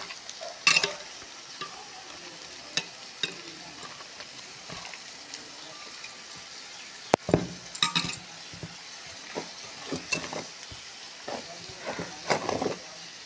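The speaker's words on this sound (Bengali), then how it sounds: "তারপর দুইটা ভাজিয়ে নেব।" Food fries in a pan at a home cooking session, a soft continuous sizzle broken by scattered clinks and scrapes of stirring utensils against the pan, close by and fairly quiet.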